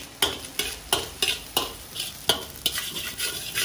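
Prawn fried rice being stir-fried in a kadai, a ladle scraping and tossing it in a steady rhythm of sharp strokes over a continuous hot sizzle, close and fairly loud with no talking.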